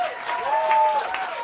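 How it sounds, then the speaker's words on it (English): Audience applause for a quartet at Smalls Jazz Club in New York City: a steady wash of clapping at even loudness, with thin sustained tones ringing faintly through it. "How about a round of applause for this wonderful band"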